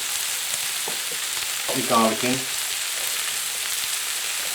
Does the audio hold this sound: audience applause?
no